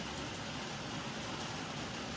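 Rain falling steadily outdoors, a dense even hiss of drops filling the whole short stretch at moderate level with no voices over it.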